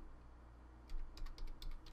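Fast bursts of keystrokes on a computer keyboard during a World of Warcraft session, a short run of crisp, close clicks after a quiet start over a low steady hum.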